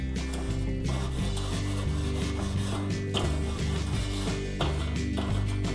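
A metal grill grate is scrubbed clean before ribs go on: a steady, close rasping rub repeats in short strokes throughout, over a constant low droning background.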